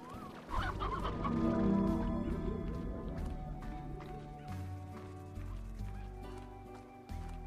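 Chickens in the video game Slime Rancher cluck and squawk in a dense, steady flock chorus, with game music and ambience layered underneath throughout.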